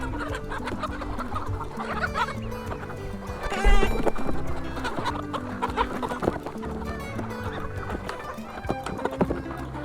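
Free-range roosters being caught one by one cluck and squawk close by in a busy, flustered jumble, with scuffling and flapping mixed in throughout.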